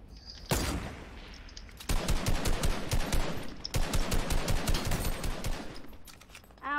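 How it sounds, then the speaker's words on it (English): Enemy players' gunfire in a video game, rapid automatic bursts of close, loud shots arriving in two long strings after a short opening burst, with no talking. "Ow, they're shooting me."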